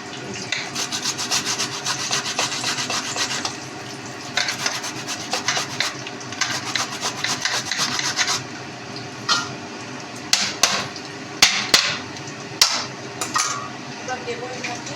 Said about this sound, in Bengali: এবার এর মধ্যে একটু আদা গ্রেট করে দিয়ে